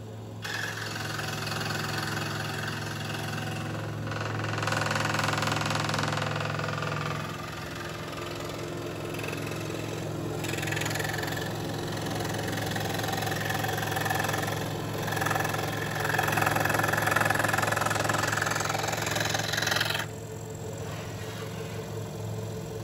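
Scroll saw cutting wood, a steady mechanical hum and buzz running continuously throughout with slight swells in intensity as the blade works through the stock.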